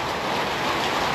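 Steady rain falls in a continuous, even wash of broadband hiss with no voices over it, holding at a constant level throughout.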